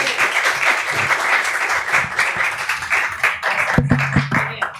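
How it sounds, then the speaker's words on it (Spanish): Applause for a speaker at a science journalism workshop, dense close clapping from an indoor audience lasting throughout, with a few louder individual claps near the end. "un gran aplauso para Ángela y les agradezco."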